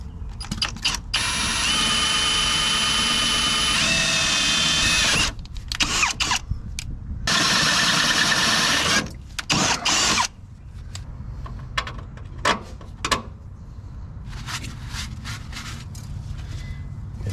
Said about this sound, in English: Now we can drill our holes.